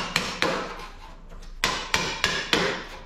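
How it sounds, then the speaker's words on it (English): Hammer blows ring out on a classic Mini's sheet-metal door skin, two strikes then a pause followed by four more, sharp and close with a brief metallic ring after each. "I can hammer that back into shape."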